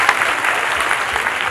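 An audience at a comedy show claps for a song's lyricist, a dense continuous burst of applause heard close and loud for a short stretch.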